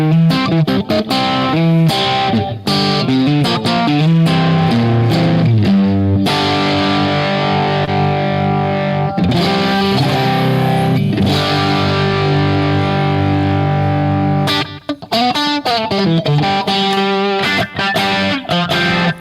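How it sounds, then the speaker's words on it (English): An electric guitar with distortion and a short slapback echo plays through a 6L6 tube amp prototype, strumming and picking rhythmic chords and riffs loudly and continuously for the whole stretch, with no talking. "a little slapback echo, just to make it sound like I'm not playing an IR"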